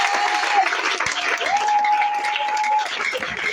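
A church congregation claps together in a sustained, dense burst of applause, with a sung or whistled tone running above it briefly.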